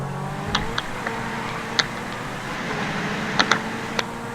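A car drives in GTA V, its engine a low steady hum with faint shifting tones, broken by a few sharp clicks and short tyre or impact noises at irregular moments, fairly quiet overall.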